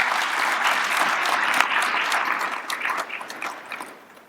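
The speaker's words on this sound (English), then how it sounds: "So please give all of them a round of applause if you will." An audience at an infrastructure presentation claps steadily in sustained, dense applause that fades out at the end.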